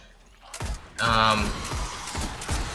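Scout rifle gunfire in Destiny, a quick series of sharp, evenly spaced shots fired close up after a short quiet start, with a bright mechanical ring after the first burst.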